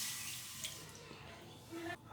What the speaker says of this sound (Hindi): एक पैन में सबसे पहले हम डालेंगे 1 कप पानी,